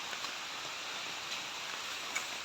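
Heavy rain pours down outdoors near a tree, a steady, dense hiss that fills the whole stretch with no voices.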